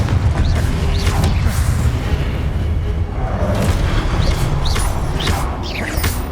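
Confringo spell blasts in Hogwarts Legacy, a fiery combat curse, burst in a dense run of booming explosions with crackling debris, loud and close amid busy battle noise.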